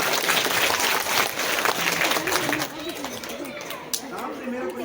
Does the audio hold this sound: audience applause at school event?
yes